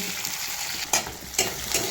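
Chilies and garlic fry in a pan with a steady, close sizzle, broken by three sharp clinks or scrapes of a utensil against the pan.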